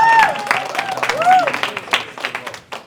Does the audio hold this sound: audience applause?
yes